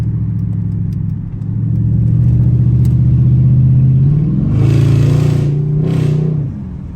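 A Dodge Challenger SRT8 exhaust drones deep and loud while driving, rising and swelling as the engine revs up, with a couple of sharp rushes of air near the end.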